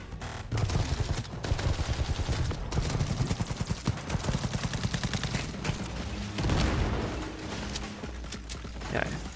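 Automated turrets in Cyberpunk 2077 fire rapid bursts of gunfire in repeated volleys, loud and close, with heavier booms mixed in and game noise underneath.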